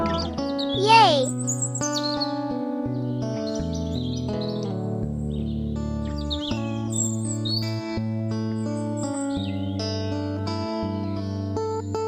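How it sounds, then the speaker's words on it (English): Synthetic chirping birdsong from the Taming.io video game, bright rising whistles and trills over a steady, sustained musical backdrop, moderately loud throughout. "There were birds singing and the beautiful nature."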